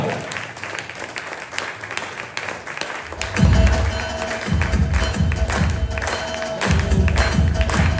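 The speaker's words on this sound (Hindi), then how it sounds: "जोरदार तालियां" Audience applause at a business talk in Goa welcomes a tax and finance speaker to the stage, a dense wash of clapping that swells at about three seconds and continues steadily, with rhythmic thumps running underneath.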